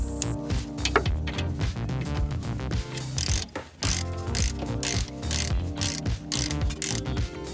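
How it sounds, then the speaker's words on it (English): A ratchet with a 13 mm socket tightens a brake bolt on a Jeep Wrangler JL, giving a dense, steady run of rapid clicks that continues without a break. It sounds loud and close, with a tonal layer running underneath. "And finally with a 13 mil socket to 27 foot-pounds of torque."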